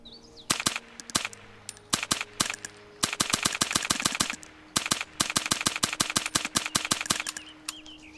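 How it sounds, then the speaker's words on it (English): Rapid bursts of rifle fire from a scoped sporter rifle in DayZ, sharp loud cracks in quick strings with short pauses between volleys, no talking. "This is going to be able to fire 30 bullets so fast."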